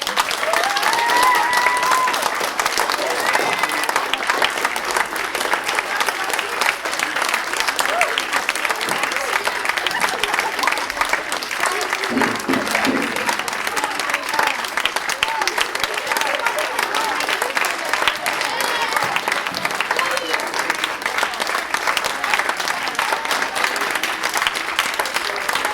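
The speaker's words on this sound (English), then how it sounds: "Can you clap the entire time?" An audience at a school string recital applauds continuously for a long stretch, a dense, even patter of many hands, while a voice occasionally speaks over the clapping.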